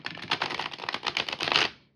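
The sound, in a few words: shuffling Heart and Hands tarot cards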